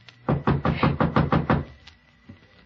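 Seven firm knocks on a door in quick, even succession, close and distinct, then a brief quiet with a faint extra tap, in an old radio drama setting.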